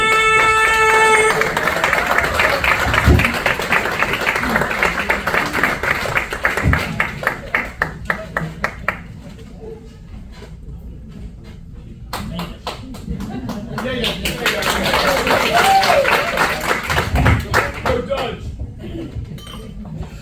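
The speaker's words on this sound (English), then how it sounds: "Start clapping right now for Dutch Martin" A comedy club crowd in Gaithersburg, Maryland, claps as a comedian is introduced. Scattered sharp claps under a voice give way to a quieter gap, then a second swell of applause builds before the talk resumes.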